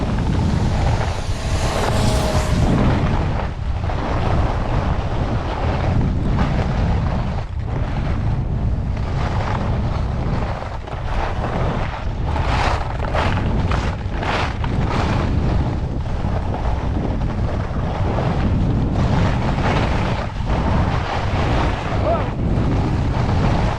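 Snow guns blasting artificial snow on the slopes at Solitude ski resort, a loud, steady hiss and roar of air and spray that fills the whole scene continuously, with wind buffeting mixed in.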